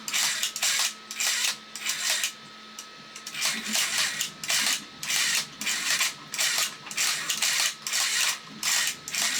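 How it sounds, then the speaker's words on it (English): Motor of a vintage Space Robot X-70 tulip-head toy straining as it closes its head: a rhythmic, grinding mechanical whir with repeated clicking pulses, close and fairly loud. "The motor's having a real hard time with that."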